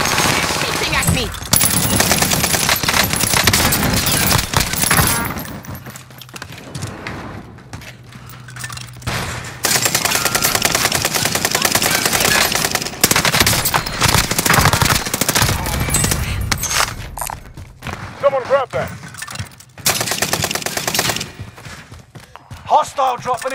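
Game gunfire in Call of Duty: Warzone, dense bursts of automatic fire and thuds loud across most of the stretch, broken by brief lulls, with talk mixed in.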